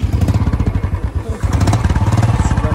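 A motorcycle engine runs close by with a steady, rapid putter that holds an even chugging rhythm for a few seconds, alone without talk.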